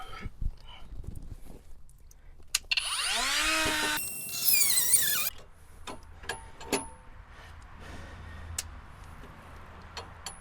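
A power tool cuts through a sway bar end link on a 2011 Cadillac Escalade, a rising whine for a few seconds that shifts pitch as the blade meets the bushing, amid clicks and clanks of the garage.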